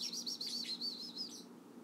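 A pet chicken chirps in a rapid high warbling series at close range, tapering off after about a second and a half over a low steady hum.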